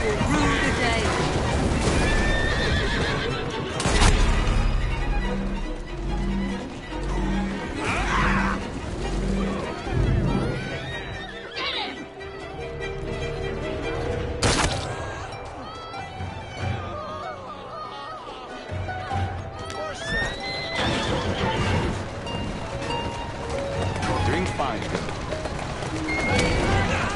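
Horse-drawn carriage in Assassin's Creed Syndicate: rapid hoof clatter and rolling wheels run throughout, with occasional crashes and sharp hits, under frequent game dialogue.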